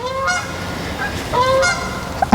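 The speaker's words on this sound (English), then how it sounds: "I don't know if you can hear the geese in the background" Geese honk repeatedly in short bursts at moderate distance, with a louder cluster of calls midway; no talking.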